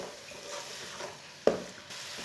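A spoon stirs carrot halwa cooking in a pan, giving a soft continuous frying hiss that is broken by a single sharp clink of spoon against the pot.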